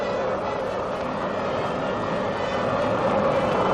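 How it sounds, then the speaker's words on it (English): A V-2 rocket roars during launch, a dense continuous broadband rush that stays loud and steady throughout with no pauses. "The rocket is now 1 mile up. Its sound is still deafening to the ear."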